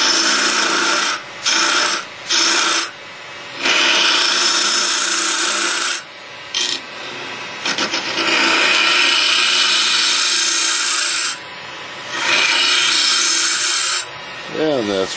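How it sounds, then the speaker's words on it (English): A scraper works on wood while turning an acorn, loud rasping passes in bursts separated by short pauses, close to the listener. "We'll go to the scraper."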